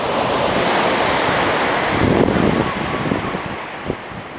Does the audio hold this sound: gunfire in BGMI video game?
no